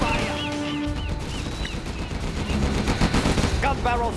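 Rapid bursts of Gatling gun fire from Command & Conquer Generals rattle loudly amid other battle noise and short unit voice lines, dense and continuous across the clip.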